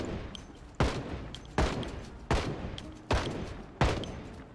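Gunfire in the video game Project Zomboid: five sharp, evenly spaced shots about three-quarters of a second apart, loud and close, each with a short decaying tail over a low ambient bed.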